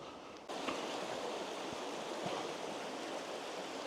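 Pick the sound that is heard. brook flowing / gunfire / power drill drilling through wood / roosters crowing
brook flowing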